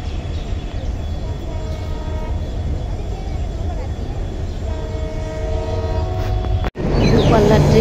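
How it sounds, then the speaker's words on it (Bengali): A long-distance train pulls into a station, sounding sustained horn tones over a rumbling approach that grows louder and closer, ending in a heavy roar of passing carriages. "দূরপাল্লার ট্রেন আসলো একটা"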